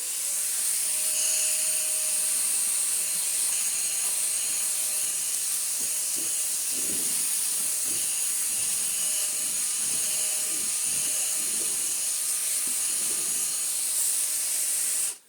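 A Numatic Henry Quick NQ100 vacuum cleaner working over a thick-pile rug gives a loud, steady airy whine and hiss, with scuffing bursts in the middle as the head drags, before cutting off at the end.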